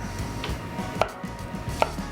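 A knife chops mushrooms on a cutting board in quick irregular taps, with two sharper knocks standing out among the softer cuts, all close by and with no talking.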